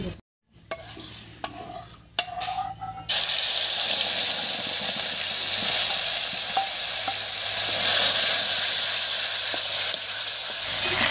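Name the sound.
mashed tomato added to hot oil, sizzling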